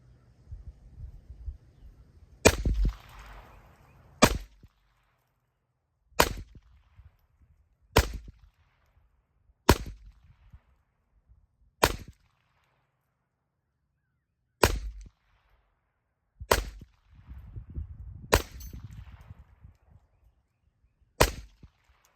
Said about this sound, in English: First 20 rounds fired through.